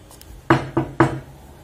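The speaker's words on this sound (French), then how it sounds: "quelqu'un frappe à la porte." Three firm knocks on a door land in quick succession, close and clear, with no other sound around them.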